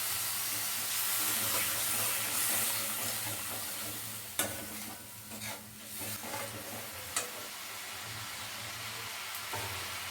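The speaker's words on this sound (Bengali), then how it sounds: "জল দিয়ে দিয়ে কষাতে হবে, নাহলে কিন্তু পুড়ে যেতে পারে।" Brinjal masala sautéed in a pan with splashes of water added, a constant hissing sizzle with a low hum beneath and a few sharp spoon knocks against the pan.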